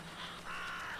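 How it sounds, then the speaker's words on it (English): Crows cawing in the video game The Vanishing of Ethan Carter: two hoarse, drawn-out caws, the second longer and louder, heard fairly close over a faint low background hum, no talking. "Crows."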